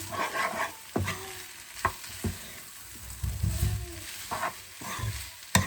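Vegetable noodles being stirred and mixed in a pan on the stove, with a continuous sizzle under sharp scraping strokes at irregular intervals, close up and without speech.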